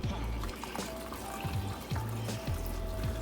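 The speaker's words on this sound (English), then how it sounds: "So I put the hot water in, and you can see it's still steaming." Hot water pouring into a cooking pot of stuffed cabbage rolls, a soft trickling, splashing flow with a few low clunks, fairly quiet and close.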